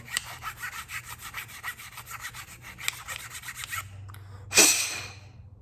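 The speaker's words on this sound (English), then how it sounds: "I'm gonna use my long file and just push it on through and clean it as much as I can" A long file is pushed back and forth through the inside of a sawgrass flute, making close, rhythmic rasping strokes like sawing, then a louder scrape near the end, with no talking.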